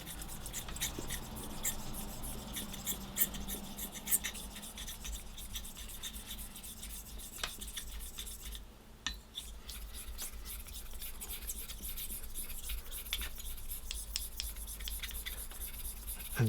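Straight razor blade honed on an Arkansas stone: soft, continuous rubbing and scraping strokes, quiet and close, repeating steadily with no talking.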